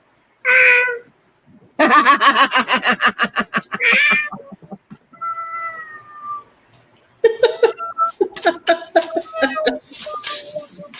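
A young child imitates a cat, giving several drawn-out, wavering meows in separate bursts, close and loud, with adult voices talking between the calls.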